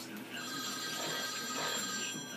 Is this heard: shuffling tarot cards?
no